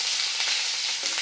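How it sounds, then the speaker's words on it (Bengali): Garlic frying in oil for a Bengali chicken curry, a steady bright sizzle with faint stirring and no voices. "প্রথমে আমরা রসুনটা দিলাম"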